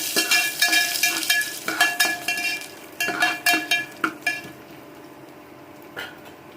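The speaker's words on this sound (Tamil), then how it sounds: "எண்ணெய் காய வச்சு கடுகு போட்டுக்கலாம். கடுகு பொரிஞ்சிட்டு கடலைப்பருப்பு கருவேப்பிலை போட்டு நல்லா வதக்கிப்போம்." Mustard seeds, chana dal and curry leaves fry in hot oil in a pan. Close, clattering stirring and clinks of a utensil against the pan ring out in quick bursts over a low sizzle, then ease off near the end.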